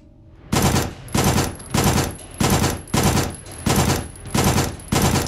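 Machine gun fire in the video game SIGNALIS, loud rapid bursts repeating in an even rhythm, about eight short volleys with brief gaps between them, close and alone.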